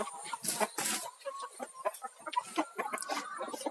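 Several laying hens cluck and murmur nearby in short, irregular bursts, with occasional louder squawks mixed in.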